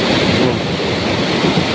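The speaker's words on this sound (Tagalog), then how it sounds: "Grabe ang lakas ng agos ng tubig." Strong rushing river water pours past rock formations in Sultan Kudarat, a steady, loud, dense roar with no pauses and no voices.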